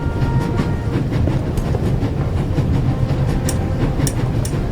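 Train wheels roll steadily along the rails in a video game, a constant rumbling drone with faint rhythmic clicks and a few light metallic ticks, close and continuous.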